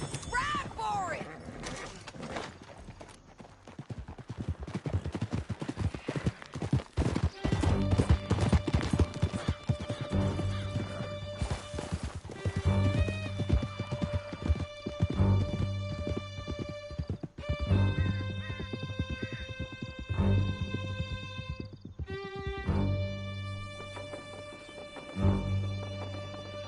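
Horses gallop in the open-world western game Red Dead Redemption 2, a steady run of hoof clip-clops with an occasional whinny, set under a sustained orchestral game score.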